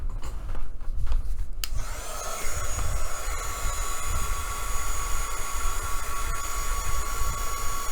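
After a couple of faint taps, a hair dryer starts up and blows steadily and loudly, drying watered-down mixed media paint on a page, a continuous close whooshing hum with no talk.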